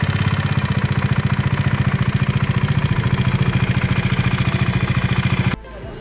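A Bajaj Dominar motorcycle idles close by with an abnormal, changed sound: a fast, even, clattering thump that holds steady for several seconds, then cuts off abruptly near the end.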